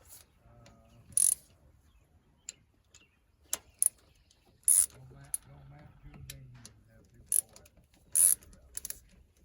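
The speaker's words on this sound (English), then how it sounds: "I love these Pittsburgh ratchets here, swivel head ratchets." A Pittsburgh swivel-head ratchet clicks as it turns a 10 mm bolt during a thermostat replacement on a 2014–2018 Chevrolet Silverado, giving short bursts of close, sharp ticking separated by pauses, with faint background noise.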